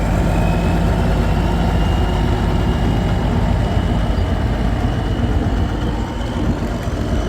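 A big turbocharged diesel Steiger Cougar tractor engine runs steadily close by at a vintage machinery rally, a deep continuous rumble with a faint turbo whine riding on top, no voices.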